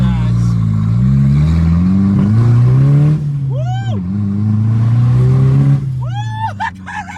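A car with a CA18DET engine, recently fitted with a new fuel pump and spark plugs, revs hard on a test drive, its tone rising and dropping through gears with sharp whines and tire-like squeals near the end.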